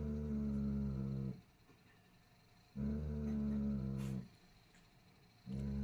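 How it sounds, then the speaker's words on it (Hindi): A dog growls angrily in low, rumbling bursts, each lasting over a second and separated by short pauses, close to the microphone and with no talking over it. "जैक्सन गुर्रा रहा है गुस्सा से"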